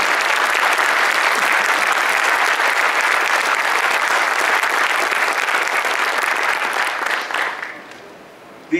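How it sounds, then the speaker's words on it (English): Sustained applause from an audience at the GYTI Awards 2015 ceremony at Rashtrapati Bhavan, a steady dense wash of clapping that holds for most of the stretch, then thins and tapers off near the end. "just as you gave a round of applause to all the innovators"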